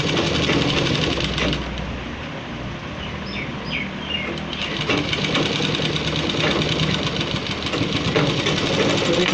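A sewing machine runs steadily, stitching the side slit of a men's kurta, with a continuous mechanical whir and faint chirps in the background.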